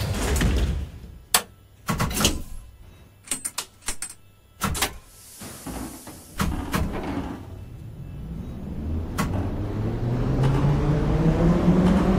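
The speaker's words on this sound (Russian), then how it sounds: "Осторожно, двери закрываются" Metro train doors in the Metrostroi rail simulator game clatter and thump shut in a series of loud, sharp bangs and slides, followed by a rising whine as the train starts to move. No one speaks.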